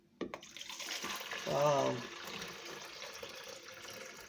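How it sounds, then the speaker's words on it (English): Homemade watermelon, kiwi and apple juice pours steadily into a jug, a continuous close liquid rush that swells briefly in the middle, with a voice exclaiming over it. "I'm gonna just pour it into my jug."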